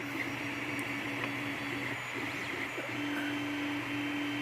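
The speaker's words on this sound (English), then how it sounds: "See, it's printing." A 3D printer prints a key, producing a continuous whirring, buzzing motor drone with faint tonal stepper whine, steady and moderately close throughout.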